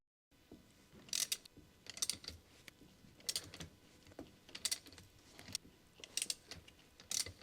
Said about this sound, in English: Start by using a large 19mm long socket with an extendable ratchet wrench to pre-loosen the wheel bolts.